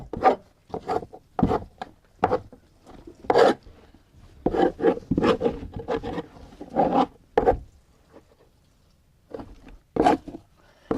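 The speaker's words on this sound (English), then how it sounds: "And all you do is just scrape it out." Repeated rasping scrapes from a one-piece scraper tool with a flattened blade and handle working stuck-on material during a baking session, coming in irregular bursts, close and fairly loud with no talk.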